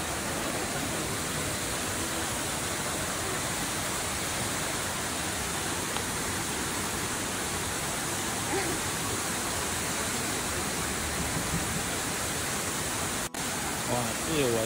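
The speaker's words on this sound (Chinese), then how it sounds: "内洞森林瀑布。" Neidong forest waterfall in Wulai crashes down in a constant, dense roar of falling water that fills the whole stretch evenly, close and loud, with no pauses.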